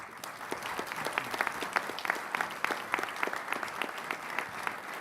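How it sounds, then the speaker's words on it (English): Audience applause at a college graduation ceremony, a steady dense clatter of many hands clapping with sharp individual claps standing out, sustained and moderately loud throughout with no talking. "I really don't know why you're applauding."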